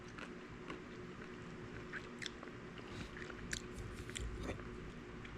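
Someone crunches and chews cold-packed pickles close to the mic, with a steady run of bites and mastication sounds and no talking in between.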